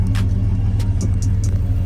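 An LS-swapped 1986 Chevrolet Monte Carlo SS, untuned and recently swapped, idles with a steady loud low rumble and a few faint higher ticks over the top.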